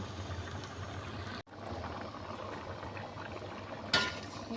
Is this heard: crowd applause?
no